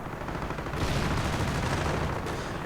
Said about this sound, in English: Grenade going off, clearing out the heavy machine gun team.